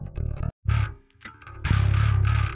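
An electric bass played through the Neural DSP Parallax plugin with heavy distortion: thick, buzzing, gritty notes, loud and close, with a brief gap early on and a long sustained growl at the end.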